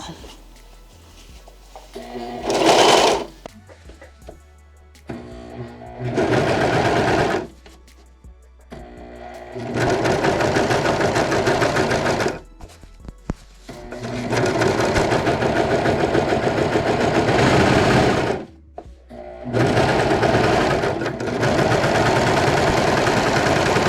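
A sewing machine stitches a satin bonnet in several long runs of steady mechanical whirring, starting and stopping with short pauses between bursts, loud and close.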